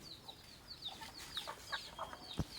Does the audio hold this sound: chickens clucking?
yes